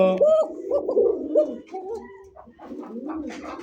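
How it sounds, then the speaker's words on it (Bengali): White Bashiraj pigeons, a male and a female, give close, loud cooing calls in a short series of rolling coos. "সাদা বাসিরাজ কাকা, নরমাদি দুইটাই ডাকে। নর যেরকম ডাকে মাদিও সেম ডাক ভাই।"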